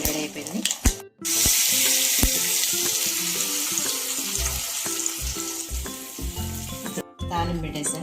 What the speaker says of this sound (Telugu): తాలింపు పెట్టేసాను, కలిపేద్దాం